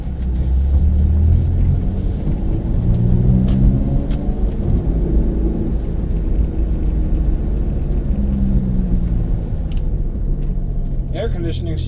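A black Toyota Camry V6 with a 5-speed manual and a quiet new exhaust drives along, its engine a steady low drone blended with road rumble throughout.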